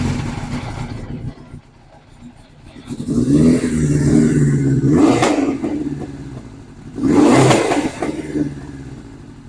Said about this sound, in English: She should fire on the button now,